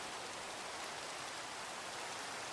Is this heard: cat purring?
no